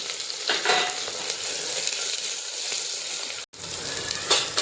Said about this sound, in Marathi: त्यानंतर कढीपत्ता आणि कांदे घालायचे